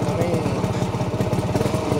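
A 1991 Kawasaki HD3 125 two-stroke motorcycle engine running on the road, a rapid buzzing putter with pulsing low tones, close and fairly loud, with some voice mixed in.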